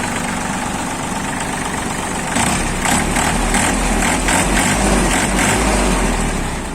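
An Iseki Sial TF 23 mini tractor engine idles, running steady and loud up close, with a rougher, slightly louder rhythmic patch partway through.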